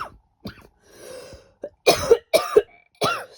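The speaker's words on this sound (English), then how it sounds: "excuse the cough" A person coughing indoors: a few scattered single coughs, then a loud cluster of harsh coughs and throat clearing, close to the microphone.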